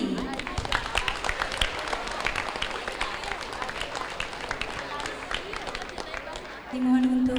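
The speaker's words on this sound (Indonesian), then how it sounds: "Berikan tepuk tangan yang meriah kepada program keahlian akuntansi." An audience at a school farewell ceremony for graduating students applauds steadily for several seconds, a dense wash of clapping with a sustained tone creeping in near the end.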